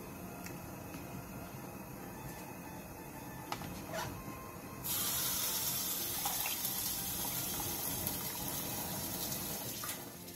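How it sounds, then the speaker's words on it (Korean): Blanched lettuce rinsed under a running cold tap, a low steady hum that gives way halfway to a louder, continuous rush of flowing water close by. "데친 상추는 찬물에 헹궈낸 뒤 물기를 꼭 짜주세요."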